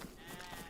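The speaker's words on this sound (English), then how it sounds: "I've got like 5 sheep, 5 sheep in front of me" A sheep bleats in the DayZ video game, a single short faint bleat with quiet background ambience.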